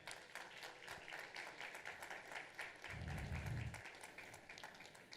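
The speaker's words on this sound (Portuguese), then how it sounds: "Vamos aplaudir o Senhor, irmãos?" Church congregation applauding during a Bible study lesson, a steady patter of claps throughout with a brief low rumble partway through, moderately loud and fairly close.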